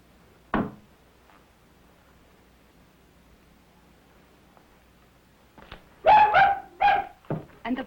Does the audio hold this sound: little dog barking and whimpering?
yes